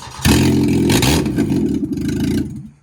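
A scrap car's engine cranks and catches, then runs loud and rough with a steady clattering idle for a couple of seconds before cutting off, very close.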